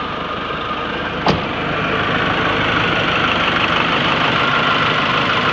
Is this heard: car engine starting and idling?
yes